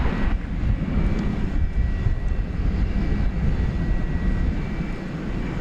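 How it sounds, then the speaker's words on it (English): An Embraer E-Jet airliner departing DFW International Airport, a loud, deep rumbling engine roar that swells slightly and stays strong throughout, alone without speech. "Got an E-Jet headed out next"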